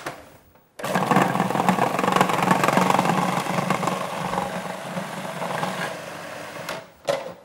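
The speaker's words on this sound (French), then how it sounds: "Et je vais venir le hacher finement." Hake fillet, seasoned with salt and pepper, being minced finely by a bladed electric chopper: a steady, loud motor whir runs for about six seconds, then cuts out.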